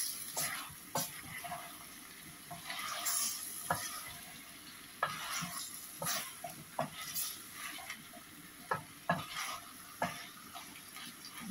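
Chicken bhuna frying in a pan while being stirred, a soft sizzle under repeated sharp scrapes and taps of a spoon against metal, close and irregular.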